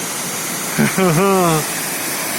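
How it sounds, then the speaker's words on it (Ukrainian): A waterfall in Victoria Park, Truro, roars in a steady, loud rush throughout, and a voice briefly exclaims over it midway. "Водоспад! водоспад"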